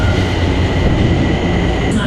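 A São Paulo subway train rumbles loudly and steadily from inside the car, with a dense roar of wheels on rail and a faint high squeal creeping in at the end.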